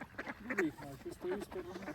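A large flock of ducks, around a hundred birds, quacks in short overlapping bursts close by, a busy chattering chorus that fills the brief moment.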